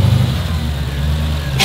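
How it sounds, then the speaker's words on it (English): Car with a loud exhaust revving nearby, a steady throaty engine drone under faint background voices. "Loud exhaust."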